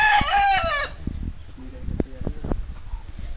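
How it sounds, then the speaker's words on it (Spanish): A fighting rooster crows once at the start, loud and close, followed by scattered clucks and rustling from other birds nearby. "Esto es un gallo de, de pelea"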